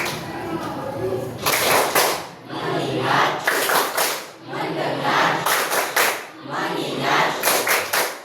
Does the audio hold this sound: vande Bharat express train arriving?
no